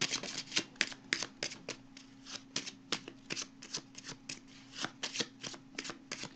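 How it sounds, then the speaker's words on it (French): Tarot cards are shuffled by hand in quick repeated riffles, crisp rhythmic flicks close by over a faint steady hum, with no talk. "pendant le temps que je mélange les cartes"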